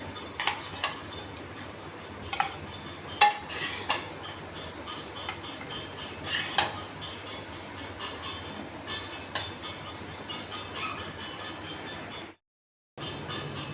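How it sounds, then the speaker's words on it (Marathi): Cooked poha spooned from a pan onto a plate, a series of light metallic taps and scrapes of a spoon against the pan, spaced irregularly over a quiet kitchen background. "आता आपण प्लेटमध्ये काढून घेतोय"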